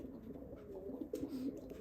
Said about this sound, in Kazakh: Мынау набат деген кептерлер өте сұлу кептерлер